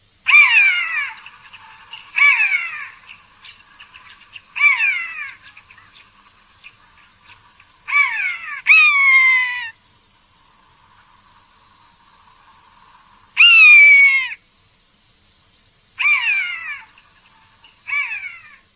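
A common buzzard gives a series of loud, clear, descending mewing calls, each about a second long, spaced by short pauses and sometimes doubled, sounding close against near silence.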